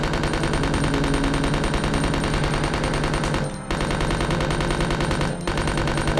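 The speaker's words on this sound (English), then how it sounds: "Wow, the machine gun is so powerful against him." A machine gun fires in Resident Evil 2 against the hulking Mr. X, a dense, loud, unbroken stream of rapid shots with two brief gaps between bursts.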